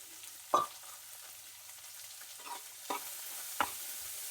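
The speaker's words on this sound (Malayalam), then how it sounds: "സവാള ഇടുന്നതാണ്. പച്ചമുളക് ഇടാം." Onion and green chillies fry in a pan with a soft, quiet sizzle, punctuated by a few light clinks and scrapes of stirring.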